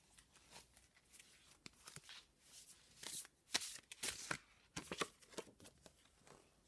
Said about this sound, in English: I'm going to give the cards another shuffle and see what comes out.